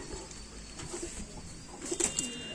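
Pigeons in a pigeon keeper's loft coo softly in a few faint, low calls, with light rustling in a quiet setting.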